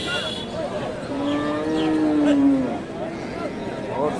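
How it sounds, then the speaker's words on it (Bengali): A Friesian bull calf or cow at a busy Bangladeshi cattle market lets out a single drawn-out moo, loud and fairly close, over a steady background of crowd chatter and market noise. "একটা গরু ছুটে গেছে হ্যাঁ, গরুটা ছুটে গেছে কেউ ধরতে পারতেছে না"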